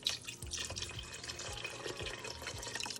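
Broth pours into a large pot of turkey soup, making a soft steady trickle with small splashes and drips, close and fairly quiet.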